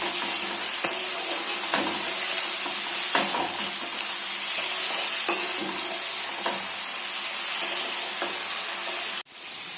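Food sizzling and frying in a pan while being stirred, with steady hiss and repeated scraping strokes of a utensil, close and continuous, no voices.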